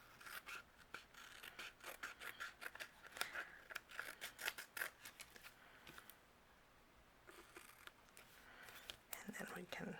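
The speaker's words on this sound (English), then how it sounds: "Now we're going to take our scissors and we're going to trim off the excess." Scissors snip and trim excess paper while making a handmade gnome greeting card, a quick run of crisp cuts with soft rasping paper rubs, close and fairly quiet, with a pause midway before more snipping resumes.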